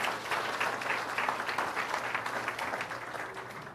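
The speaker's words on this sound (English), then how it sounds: "A round of applause for everyone here." Steady applause from a crowd of many hands filling a town hall meeting, dense and even for several seconds without a break.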